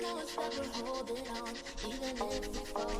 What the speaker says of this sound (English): So what I'm gonna do is just kind of rub it in.